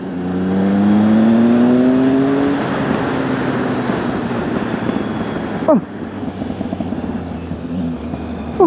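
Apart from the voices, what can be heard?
Triumph Speed Triple motorcycle exhaust revving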